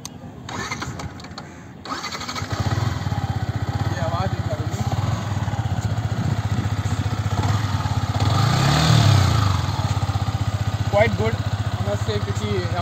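A Yamaha MT-15 motorcycle engine is started close by, catching after a brief cranking burst and settling into a loud, steady idle with a short throttle blip midway.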